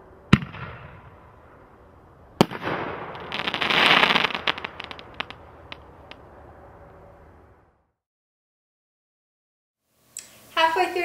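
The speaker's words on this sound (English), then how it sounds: "The shells are exactly the same, super loud, premium quality reloadables with great effects." Premium reloadable firework shells bursting, with sharp loud booms followed by a spreading crackle and rain of pops that fades out, then silence and a brief burst of crackling at the end, with no talk over it.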